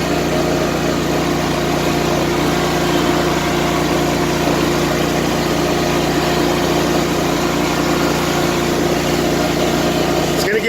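A riding lawn mower engine runs at low throttle, a steady, loud, close drone that holds even throughout with no talk heard.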